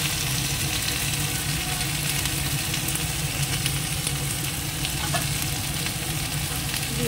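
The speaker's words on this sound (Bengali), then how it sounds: "একটু মশলাটা একটু কষিয়ে নিই" Spices with turmeric powder and chilli paste fry in a pan with a loud, continuous sizzle and occasional stirring scrapes, close by and steady throughout.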